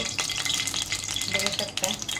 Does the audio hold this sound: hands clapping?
no